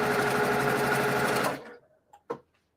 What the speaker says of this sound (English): So we're going to assembly line sew these. Okay. Just a 1/4 inch seam.